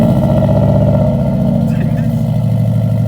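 A 2003 Subaru WRX fitted with an eBay aftermarket exhaust idles loud and low, a steady deep engine drone close by throughout with a slight rise partway, while people talk over it.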